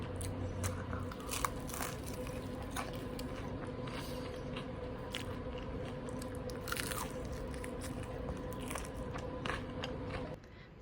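Close, crisp bites and crunchy chewing of seasoned Thai fried chicken dipped in sauce, a steady run of crackling crunches at a quiet level with no talk over it.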